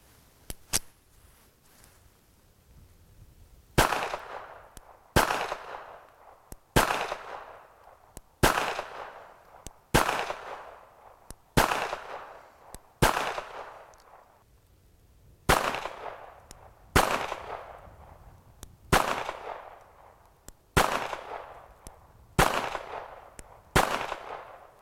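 Sharp, loud shots from a .380 handgun, fired one at a time in a steady series of about fifteen, each crack trailing off in a brief echo, with no talking.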